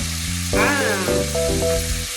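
T-bone lamb chops sear in a hot pan, a loud continuous sizzle close up, with tonal, voice-like sounds layered over it near the middle.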